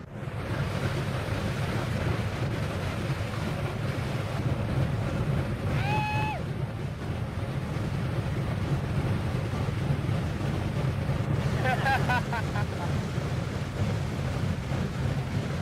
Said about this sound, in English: the first engine is turned over